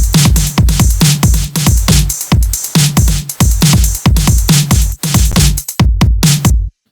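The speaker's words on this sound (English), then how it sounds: "All the drums together for the drop sounds like this." An EDM drop drum pattern plays alone, with punchy kicks and crisp snares and hats in a tight, driving, evenly repeating groove that stays loud until a sudden stop at the end.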